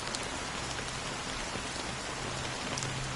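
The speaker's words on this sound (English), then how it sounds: "How long has this rain been?" Steady rain falls in the video game Honkai Star Rail, an even, dense patter of drops on surfaces with no breaks and no voices.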